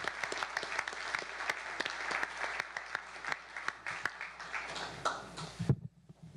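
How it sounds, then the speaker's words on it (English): A lecture audience at a Cassini Saturn public talk applauds, a dense, sustained wash of clapping with sharp individual claps that fades out abruptly near the end. "So one more round of applause for the speakers and for other members of the Cassini team."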